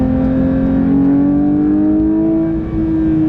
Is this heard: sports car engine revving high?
yes